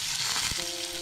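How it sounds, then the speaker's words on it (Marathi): Cumin seeds drop into hot oil for veg pulav, a steady close sizzle with a brief thump as they land. "व तेल गरम झाले की त्यामध्ये मी प्रथम जिरे घालतोय."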